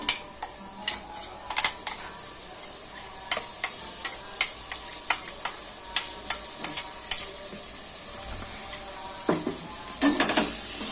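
Coriander and mint paste frying lightly in a pan, with scattered sharp clicks and scrapes of a utensil stirring over a soft, steady sizzle, a louder burst of activity near the end, no talking.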